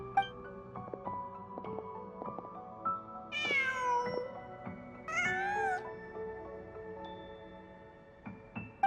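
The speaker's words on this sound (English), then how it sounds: "Huh. Just a cat." In Genshin Impact, a cat meows twice, a few seconds apart. The meows are clear but not loud and sit over a soft, busy game music backdrop with tonal notes, with no speech.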